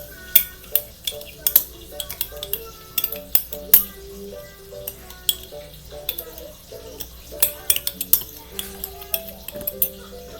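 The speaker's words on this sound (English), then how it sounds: "At this time, I would switch to mixing with the big spoon instead of the teaspoon here." A big spoon mixes mug cake batter for a microwave recipe, knocking and scraping against the mug in quick, irregular clinks and taps, close and fairly crisp, with no talking.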